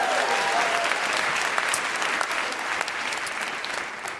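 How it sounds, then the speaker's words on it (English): Loud, dense audience applause fills a Manchester theatre at the 2019 Secret Policeman's Tour comedy benefit for Amnesty, a steady wash of clapping with no speech over it. "give yourselves a big round of applause for"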